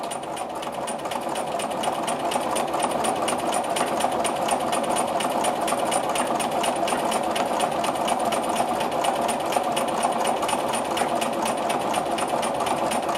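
A sewing machine quilts an orange peel grid design in one continuous, loud, even whir that holds for the whole stretch with a rapid stitching pulse.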